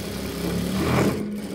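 A sewing machine runs steadily while stitching a high-neck, princess-cut blouse, giving a continuous close whirring hum for about a second and a half with no pauses and no voices.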